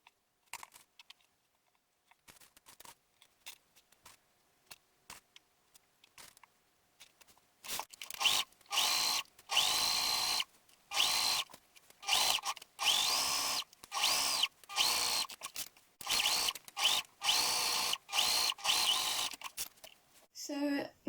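A sewing machine stitches a shirt yoke seam for a Simplicity S8889 shirt in short, repeated bursts. Each burst stops and starts again, and faint handling noises come before the stitching.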